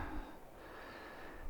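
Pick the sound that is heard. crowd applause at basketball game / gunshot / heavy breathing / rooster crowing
heavy breathing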